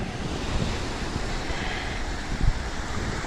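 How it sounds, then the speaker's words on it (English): Wind buffets the microphone over continuous ocean surf at Chic's Beach, a broad, steady roar of waves with a slightly stronger gust or wave swell partway through. "It's a little windy today."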